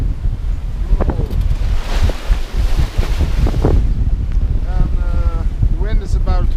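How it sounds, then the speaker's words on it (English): Strong North Atlantic wind of about 22 knots buffets a sailboat in 2–3 metre waves between Jan Mayen and Iceland, a constant roaring rush over the microphone with sloshing water and brief voice sounds near the end. "And the wind is about 22 knots."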